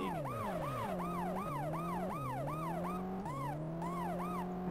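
A police car siren in a video game wails steadily in a rapid, rising-and-falling yelp pattern, loud and continuous over a low engine hum throughout.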